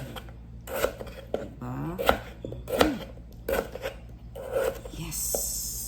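A tomato is chopped into small pieces on a board with quick bursts of knife strikes, several close thuds in irregular clusters, and a brief spoken question midway.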